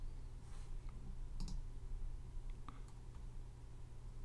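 Mouse clicks on the Start button in Handbrake, two or three faint, sharp, isolated clicks close by over a quiet room hum.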